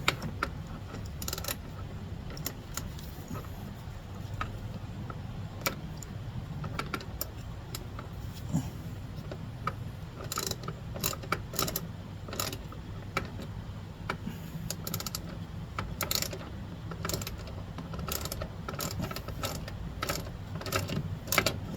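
Ratchet clicking in short irregular bursts while a roof rack bolt is tightened on a 2019 Honda Pilot, near and fairly quiet over a steady low hum.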